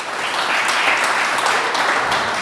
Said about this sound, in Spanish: Dese un aplauso a usted mismo porque es cristiano.